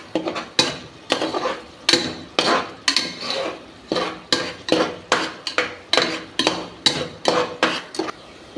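Sliced onions with salt being sautéed in a pan for chicken gravy, a brisk run of rhythmic spatula scrapes and clanks against the metal, close and loud.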